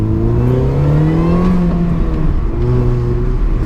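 Supercharged, built race car engine revving steadily and loudly up close, harmonic engine tones rising and falling across several seconds with no talk.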